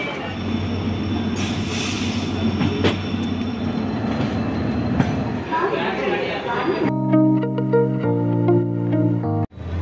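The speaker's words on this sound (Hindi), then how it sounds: "एक ट्रेन मिल गई, उसमें जनरल टिकट भी मिल गई, तो इसी में हम जा रहे हैं।" Interior of a moving passenger train in India on a general-ticket journey from Aurangabad to Pune, with a steady low rumble and rattling carriage noise, faint voices mixed in, and a sharper tonal hum near the end.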